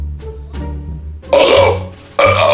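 A man belches as loudly as he can: two long, raspy, forceful burps right up close, the second following after a short pause.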